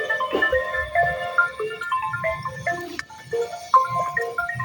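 A mobile phone ringtone plays a bright stepping electronic melody of short repeated tones near a reservoir fishing spot, with faint voices and low background noise underneath.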